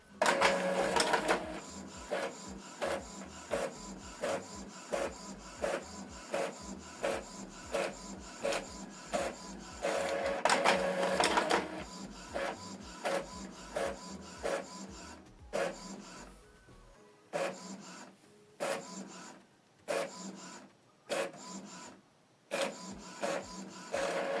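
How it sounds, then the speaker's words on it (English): An Epson EcoTank ET-2862 inkjet printer rattles in a rapid rhythmic series of clicks and whirs, pausing briefly and resuming with several louder feed bursts, close by and with no voices. "It's going to print the document from this printer now."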